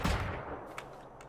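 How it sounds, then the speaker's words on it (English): In the Generation Zero video game, an exploding super shotgun fires a single heavy, booming blast that decays into a rumbling tail, loud and close with no voices. "this is with the super shotgun that explodes"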